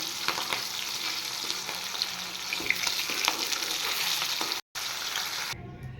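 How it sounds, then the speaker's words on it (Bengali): Fish pieces dropped into hot oil and flipped side to side, a loud continuous close sizzle with crackling pops and stirring scrapes, briefly cut off and then falling quieter at the end. "মাছ কিন্তু আমি একদমই ভাজিনি তেলে দিয়ে এপিট ওপিট করেই নামিয়ে দিয়েছি"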